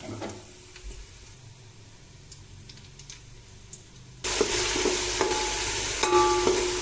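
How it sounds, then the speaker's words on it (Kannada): Onions tipped into hot oil with spices and stirred in a pan, first a quiet scrape, then a sudden loud, steady sizzle with light clinks of a spoon against the pan. "ಈಗ ಈರುಳ್ಳಿ ಹಾಕಿ ಹಿಂಗೆ ಮಿಕ್ಸ್ ಕೊಡಬೇಕು"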